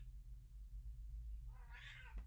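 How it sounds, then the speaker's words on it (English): A cat gives a single short, faint meow near the end, rising and falling briefly over low background rumble. "Oh, there's a cat."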